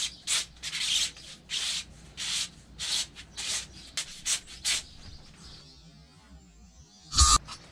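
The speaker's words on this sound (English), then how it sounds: "I've sanded the inside of this until my piston slips in it fairly easy" Rhythmic back-and-forth sanding strokes inside the bore of a homemade flow bench cylinder for a Predator 212 engine piston, close and steady, ending with a brief clunk, no talk.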